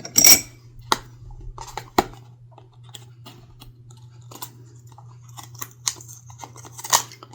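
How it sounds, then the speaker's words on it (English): Scissors snip at the plastic packaging of a home food and drink sensitivity test kit, giving several sharp, close cuts spread across the moment, with a low steady hum underneath and no talking. "I tried cutting it with the scissors to get it started"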